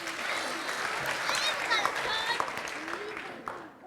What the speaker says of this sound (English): Round of applause for our kids.